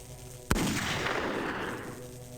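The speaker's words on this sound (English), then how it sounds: "What if we shoot these barrels?" A single loud gunshot cracks at barrels in The X-Files Game, followed by a long, noisy rumbling decay that fills the rest of the moment. No voices.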